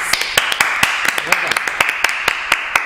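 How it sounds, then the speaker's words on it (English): Sparse, evenly spaced hand claps ring out one by one across the span, a small group's round of applause for a team's work, sharp and fairly close, with no talking. "You all deserve a big round of applause."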